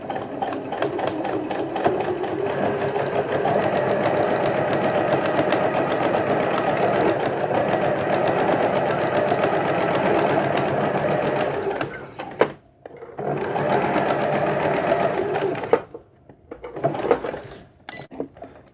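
An embroidery machine sews down a quilt, its steady rapid stitching running continuously for about twelve seconds, then stopping briefly and restarting in two shorter bursts with gaps between.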